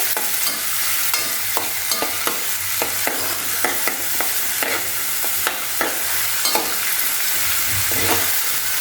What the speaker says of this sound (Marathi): टॉमॅटोसुद्धा आपल्याला लसणाबरोबर व्यवस्थित परतून घ्यायचं आहे